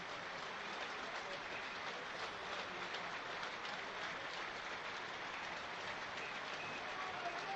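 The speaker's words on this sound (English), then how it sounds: "the stadium rises in applause for Elliot and his family" A football stadium crowd applauds for a player and his family, with sustained, dense clapping spread evenly across the terraces and heard faintly from a distance.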